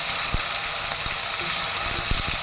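Ginger garlic paste frying in hot oil in a pan, a dense steady sizzle with a few soft knocks and scrapes underneath, close and even throughout.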